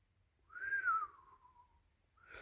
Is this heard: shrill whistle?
yes